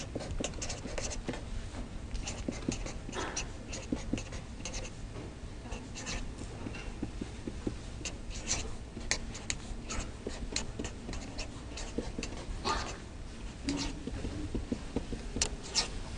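Pen writing on paper while chemical structures are drawn, a continuous close scratching with quick strokes and small ticks and taps running steadily for the whole span.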